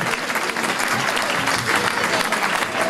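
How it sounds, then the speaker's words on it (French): Loud, dense applause from a crowd honoring race athletes at an outdoor prize ceremony for the Foulées du Château de Caveirac 2014, sustained clapping close up with possible cheering mixed in. "Je vous demande d'applaudir très fort."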